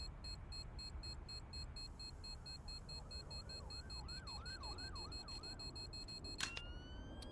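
Police car sirens wail in the CS:GO map Overpass, a repeating swooping tone rising and falling over a steady hum of game noise, with a sharp bang near the end.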